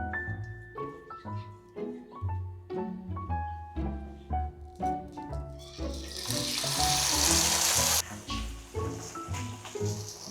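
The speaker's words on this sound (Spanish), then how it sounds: "voy a empezar a dorar la carne adobada" Marinated meat browning in a pan gives a loud burst of broadband sizzle for about two seconds, under steady background music that plays throughout.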